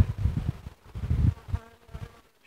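Honey bees buzzing at a hive covered with sacking, a close low droning hum that swells and fades in uneven pulses.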